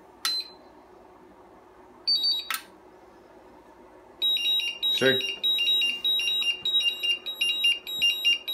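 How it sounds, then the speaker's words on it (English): A LiPo balance charger on a 2S battery sounds its connection-break alarm: a few separate beeps, then a rapid, continuous high-pitched beeping pattern, close and loud, with someone talking briefly over it. "Alarm's going to go off."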